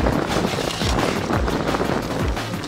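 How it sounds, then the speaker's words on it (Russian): Strong winter wind gusts across a bay at up to 18 m/s, buffeting and roaring close to the microphone in continuous rushing bursts, with no speech. "Ветер сильный."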